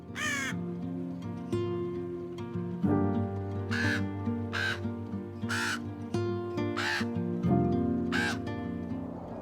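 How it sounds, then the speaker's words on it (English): Ravens in the Alps give a series of hoarse caws, about seven in irregular succession, loud and clear over a backdrop of sustained musical tones. "Ravens may find the aftermath sooner."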